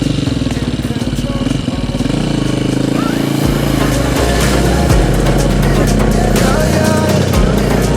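Motorcycle engine running steadily and loudly through a deep river water crossing on the Trans Papua Highway, with splashing water and a voice talking over the continuous drone.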